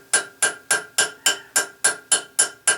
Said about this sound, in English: using the small chisel and the small peen hammer,